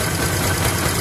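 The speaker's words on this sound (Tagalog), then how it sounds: "pakinggan ko yung makina kung may pagbabago ba sa tunog" A vehicle engine runs at a steady idle during a check-up, a loud, smooth, even rumble heard up close with no voices.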